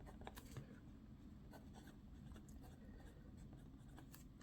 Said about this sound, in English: me just writing a little bit